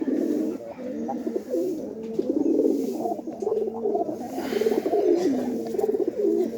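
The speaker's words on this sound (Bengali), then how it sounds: "এ হচ্ছে ধরা কবুতর" Newly caught pigeons coo steadily and close by in a continuous, overlapping low murmur of throaty rolling calls, with no talk.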